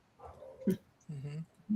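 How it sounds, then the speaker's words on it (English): A dog in the background gives a couple of short whimpering yips, faint and brief, alongside a quiet murmur from a person. "Sorry, you can hear my dog in the background."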